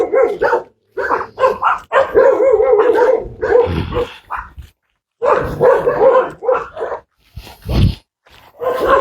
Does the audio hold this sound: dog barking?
yes